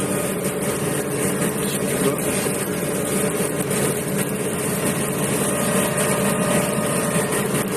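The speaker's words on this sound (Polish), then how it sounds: "Traktor nie ma z uciągiem tego spługa najmniejszego problemu." New Holland T6.160 tractor pulling a five-furrow plough through heavy clay, a loud, steady engine drone with broadband rumble and hiss that holds unbroken throughout.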